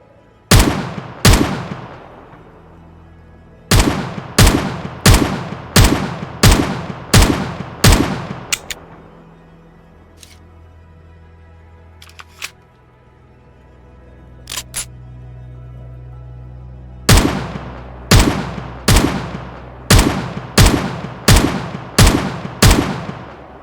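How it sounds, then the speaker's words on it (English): Rifle gunshots in the Project Zomboid video game, sharp loud cracks fired in rapid regular bursts, a quiet stretch with faint rumbling in between, then another rapid volley of shots. "Emily shoots with a rifle."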